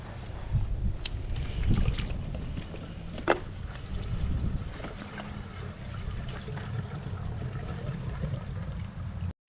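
Antifreeze pours from a gallon jug into the return snorkels of an inground pool during winter closing, a continuous gurgling trickle with a few sharper splashes and knocks.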